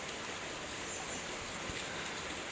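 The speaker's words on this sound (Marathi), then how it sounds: "हळूहळू आता थोडासा पाऊस कमी होत चालला आहे" Light rain falls in a Konkan village during a heavy monsoon, a faint steady hiss of drops with a soft dripping texture and no voices.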